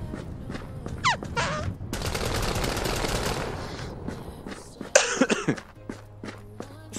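AK rifle fire in a video game: a sustained rapid burst of shots, then sharper bursts later, mixed with scattered clicks, footsteps and a cough-like sound, with no talk.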